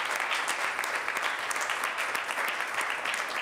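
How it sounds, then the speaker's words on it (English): Audience applause for awardees at a Boston City Council meeting, a dense, even wash of many hands clapping steadily and fairly loud throughout, with no speech. "A round of applause for all of the incredible awardees."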